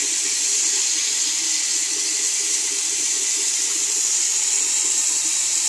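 A sink tap runs in a steady, unbroken rush of water from start to finish, close and fairly loud, with no voices.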